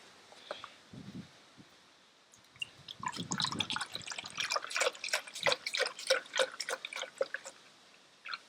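Soy milk poured from a carton into a container in a home kitchen, a close, steady gurgling and splashing stream after a few faint taps, with no talking.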